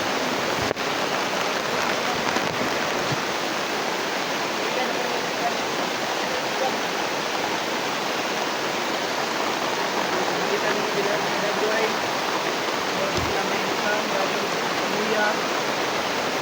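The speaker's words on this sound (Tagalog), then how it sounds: "Lakas talaga ng ulan." Heavy rain pours down in a steady, dense hiss that holds constant throughout, broken only by a couple of brief knocks.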